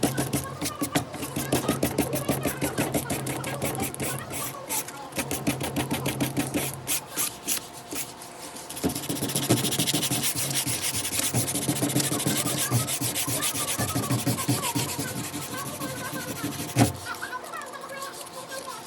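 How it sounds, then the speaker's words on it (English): Coarse 60 grit sandpaper, folded in half, is worked back and forth along the edges of a painted wooden board in quick rasping strokes that are near and steady, then turn smoother and more continuous after a short pause. "We got some 60 grit sandpaper. I like to fold it in half and I like to start off at the edges on kind of an angle."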